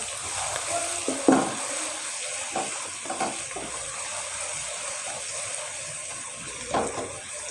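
Garlic frying in a pan while being mixed, with a steady sizzle throughout, a few sharp clinks and scrapes of the spoon, and no talking.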